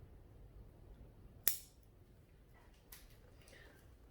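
Pruning shears snipping a branch on a box tree bonsai, a single crisp close cut followed by a fainter second click, in a quiet setting.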